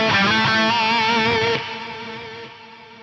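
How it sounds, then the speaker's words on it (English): Electric guitar run through a Lexicon PCM70 rack unit's circular delay, a sustained chord ringing with shimmering repeats that swirl and then fade into a softer decaying tail. "the old Lexicon PCM70 circular and pan delays model"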